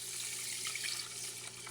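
Tap water running steadily into a pot of rice for cooking, a continuous close splashing flow with no talk.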